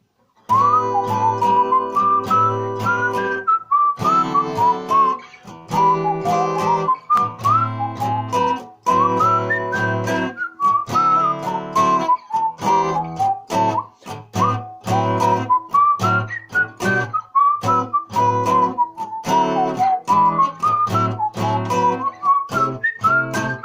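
Jazz guitar chords in a Celtic folk style strummed in a steady rhythm under a bright melodic line, each chord struck crisply and close, playing continuously without talk.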